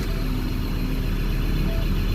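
A Ford Ranger 3.2 diesel engine runs at a steady, even idle close by, a continuous low rumble with no talk over it.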